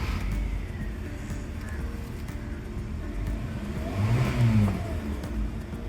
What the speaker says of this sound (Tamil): கீ லைட் வந்ததுக்கப்புறம் கிராங்க் பண்ண உடனே வண்டி ஸ்டார்ட் ஆகிடுது.